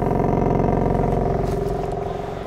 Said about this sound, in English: sounds so good if you can just hear the idling rumble